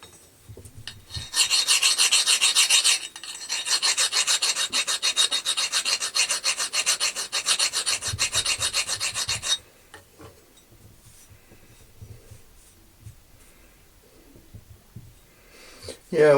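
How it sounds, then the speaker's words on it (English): A metal file rasps across a steel part in two loud, close bursts of fast back-and-forth scraping strokes, then quiet handling noises follow. "I'm just going to get a file and just see if the file touches it"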